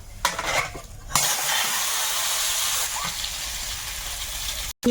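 An egg drops into hot oil with a little turmeric in a wok. A few utensil clatters come first, then a loud, sustained broadband sizzle that cuts out briefly at the very end.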